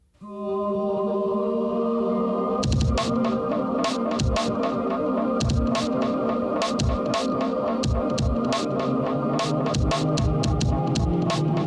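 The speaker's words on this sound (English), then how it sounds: "just these pads are dreamy synths and reverb" Dreamy, wide synth pads drenched in reverb from a song, swelling in from silence into a sustained chordal wash with rhythmic percussive hits pulsing throughout.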